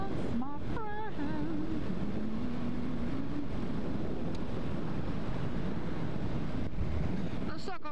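Strong, steady wind buffeting the microphone while riding a motorcycle on a wet road near Castiadas, Sardinia, with a mistral breeze blowing; a continuous loud roar throughout, with a voice talking over the first few seconds.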